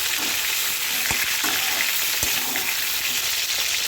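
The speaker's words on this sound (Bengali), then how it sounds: "এবার আমি পটলগুলো ভেজে দিচ্ছি" Pointed gourd frying in hot mustard oil gives a steady, dense sizzle throughout, close and fairly loud, with a couple of sharp stirring taps cutting through.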